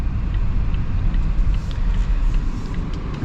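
A 2024 Volvo XC90 Recharge hybrid SUV with a 2-liter engine accelerates hard in power mode, heard from inside as a loud, continuous low rumble of engine and road noise.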